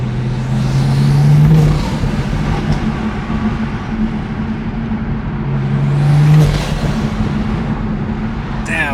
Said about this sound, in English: that intake is so loud